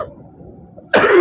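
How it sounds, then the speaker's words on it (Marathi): A single loud cough near the microphone, one harsh burst at the end after near silence, from a man during a night ride on a Yamaha R15 v3 motorcycle. "आता खोकला येतोय मला."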